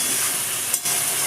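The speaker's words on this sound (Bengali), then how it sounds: "এবার আমি এটাকে নাড়াচাড়া করব।" Paneer curry with tomato paste being stirred in a hot pan, giving a loud, steady frying hiss that drops out briefly for a moment.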